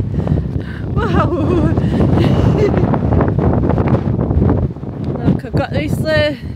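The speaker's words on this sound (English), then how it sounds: "it's windy here" Strong gusts buffet the microphone on a windy Scarborough seafront, a loud rumbling roar that swells and drops, with a person talking over it and brief higher squeaky sounds near the end.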